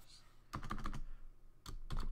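Short bursts of key presses on a computer keyboard, a quick cluster of clicks, a pause, then another few taps, close and fairly quiet in a still room.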